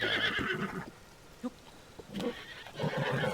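A horse whinnies in Zelda: Tears of the Kingdom, a fairly close neigh starting the stretch, followed by soft hoof-like thumps and a second, fainter whinny near the end.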